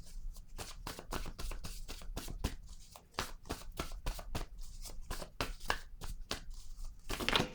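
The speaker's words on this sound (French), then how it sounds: "j'ai échappé trop de cartes" Playing cards are handled close by during a tarot-style reading, with quick crisp flicks and slaps in an uneven rhythm, fairly quiet, and a few cards fall at the end.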